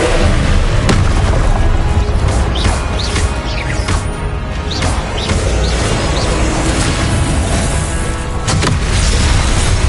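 Loud, continuous spell-casting blasts and booms from Confringo and other combat spells in Hogwarts Legacy, explosive hits stacking densely over a roaring battle backdrop.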